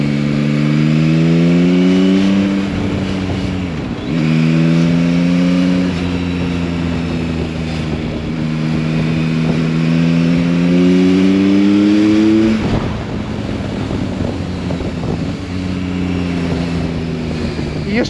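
A Yamaha Tracer 9 GT motorcycle on its stock factory exhaust, heard on a test ride, its engine rising and falling through repeated rev sweeps, loud and close with short dips between pulls.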